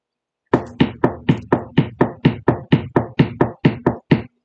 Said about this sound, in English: when I knock on the table here.